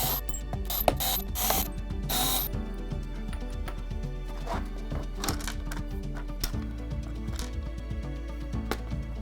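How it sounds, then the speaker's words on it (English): Small screws are turned out of a plastic VHS tape case with a screwdriver, giving close, quiet ratcheting clicks and squeaks in irregular bursts, with occasional sharper scrapes. "I'm going to take all the screws out now."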